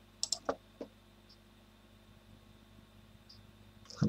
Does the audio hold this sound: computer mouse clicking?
yes